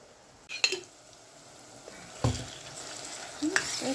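Homemade supper of meat frying in a pan being stirred, with a steady faint sizzle broken by a few scrapes and clinks of a utensil against the pan.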